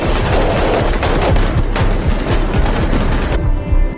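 A film battle at sea near a destroyer erupts in a loud, dense exchange of gunfire, with rapid overlapping shots and bursts sustained almost continuously before cutting off abruptly near the end.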